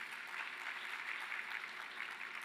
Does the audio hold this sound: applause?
yes